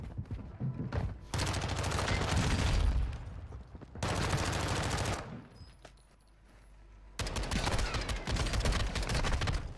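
Rapid automatic gunfire from the video game Warzone rings out in three long, loud bursts separated by short quiet gaps.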